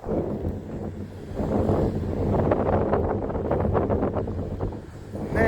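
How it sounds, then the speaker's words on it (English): Strong gusting wind buffets the microphone outdoors in town ahead of a nor'easter blizzard, a loud, steady low roar that swells and dips throughout with no talk. "Man, the wind is"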